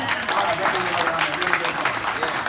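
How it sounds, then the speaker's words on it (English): An audience claps together in a steady, dense burst of applause that fills the conference keynote hall in Dublin and carries on throughout, with voices mixed in. "How about a round of applause?"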